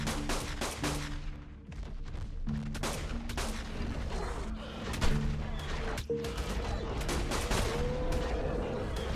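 Rapid gunfire rattles through a firefight in Ark: Aberration, with dense overlapping shots and bursts sustained throughout, a heavier blast in the middle, and game music tones underneath.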